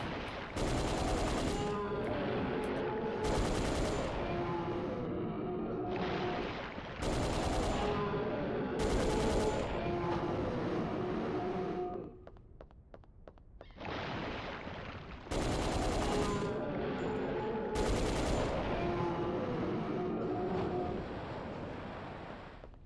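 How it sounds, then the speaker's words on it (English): Heavy machine gun in the game Dino Crisis 2 fires loud, dense bursts in several long stretches, with a short quieter gap near the middle and the firing tapering off at the end. "Heavy machine gun. Heavy machine gun."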